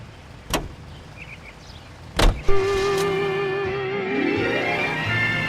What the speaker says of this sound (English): Your car, Mr. Kelso.